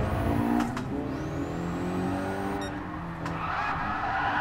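Cars drift in GT Sport during street drifting in a 400hp S13, engines revving loudly while tires squeal and skid through a corner, with brief sharp whines over a steady engine roar.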